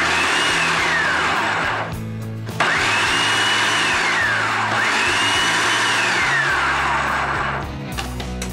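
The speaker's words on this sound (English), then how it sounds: "you want to pulse it. Pulsing means pushing it on, letting it go, pushing it on again" A loud motorized whirring runs in several bursts with short pauses between, a kitchen food processor pulsing onions, close and continuous, no voices.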